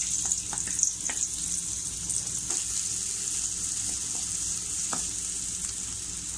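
Chopped onion frying in oil for capsicum chutney, a steady close sizzle with faint crackles and occasional stirring scrapes, no voices.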